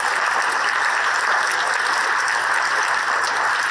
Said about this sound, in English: So one more round of applause for Alexia Fall Workshop.